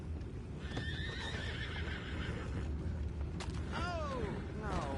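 Horses in the Red Dead Redemption 2 video game whinny several times, with shrill descending neighs rising over a steady bed of hoof clops and ambient game noise, close and fairly loud.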